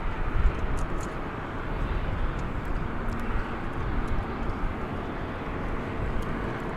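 Airbus A321 at DFW Airport at night, a broad, steady jet roar from the runway, loud and continuous with no talk.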